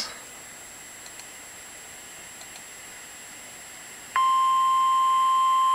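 After quiet static with a few faint ticks, an Emergency Alert System tone for a special marine warning on the Potomac River and Chesapeake Bay sounds abruptly: a loud, steady, piercing beep.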